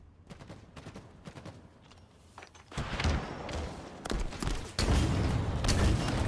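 Video game combat with rocket launcher fire: a string of sharp shots and thuds builds into several heavy, booming blasts, loud and close, one after another with brief gaps.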